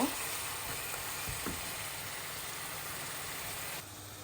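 Roast masala for a wedding-style shahi chicken roast being stir-fried in a pan, giving a steady, faint sizzle and hiss with a couple of soft scrapes near the start. No talk.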